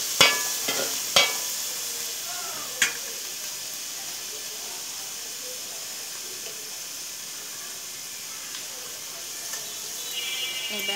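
Onion paste frying in a pan gives a steady soft hiss and sizzle, with a few sharp clinks near the start and no one talking.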